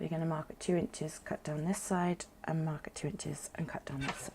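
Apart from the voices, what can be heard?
No distinct noise like a dog, phone or traffic.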